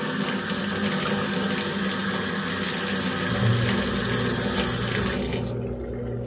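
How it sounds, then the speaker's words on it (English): Pump pushing water through a basement electric brewery, a loud steady rush of running water over a low motor hum that cuts off abruptly near the end, with no talking. "that pump is running off of the brewery controller as well"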